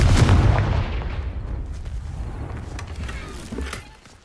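Confringo fire spell blast in Hogwarts Legacy, a loud booming burst at the start that rumbles and decays over several seconds, with a smaller thump near the end.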